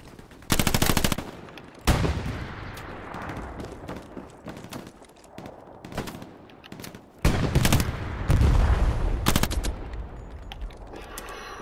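Loud, close bursts of automatic and rifle fire in a World War II shooter battle, rapid rattling volleys separated by single sharp shots and brief pauses, with no talk.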